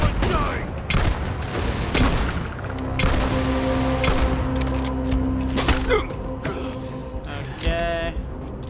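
Sci-fi firefight in the video game Starfield: repeated sharp gunshots and bursts crack across several seconds amid booms and thuds, with a voice shouting over the shooting.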